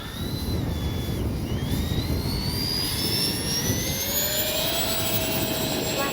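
Freewing 80mm EDF A-10 Thunderbolt V2 RC jet taking off, twin electric ducted fans giving a loud, steady rising whine that holds high and close throughout, with faint wind noise underneath.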